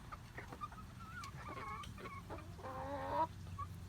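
A Leghorn chicken clucks and calls toward a Silkie in a separate pen, a series of short, moderately loud clucks building to a longer drawn-out squawk, with farmyard ambience behind.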